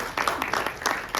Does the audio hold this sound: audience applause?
yes